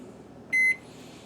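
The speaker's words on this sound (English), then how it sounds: "I'm going to put it in the microwave, and I'm going to start out with about 20 seconds" Microwave oven heating a block of shaving soap to melt it: a low steady hum, then a single loud electronic beep lasting about a fifth of a second, followed by the continuing quiet drone.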